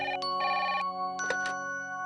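A telephone rings indoors in two clear electronic bursts with a short gap between them, fairly loud and close, with no talk over it.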